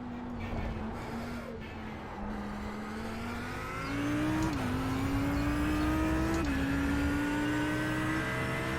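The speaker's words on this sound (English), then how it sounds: "There's a faster car approaching." A GT3 race car engine in an IMSA racing game at Monza drones at high revs, pitch climbing steadily with two brief dips at gear shifts, the sound swelling louder as a faster car closes in.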